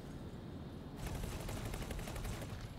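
Rapid bursts of ship-mounted guns fire in X4: Foundations space combat, a dense sustained volley starting abruptly after a second of quiet and continuing loud to the end.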